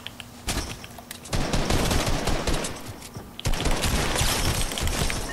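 Rapid automatic gunfire in the video game Fortnite, sustained bursts of loud close shots that rattle on almost without pause, with no talk over them.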